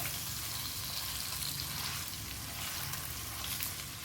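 Fish fries in hot oil in a pan for a Kerala-style fish pollichathu, giving a steady, even sizzling hiss that continues without pause.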